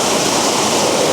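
Waterfall outdoors among autumn scenery, a loud, dense, constant roar of rushing water close to the microphone, with no pauses.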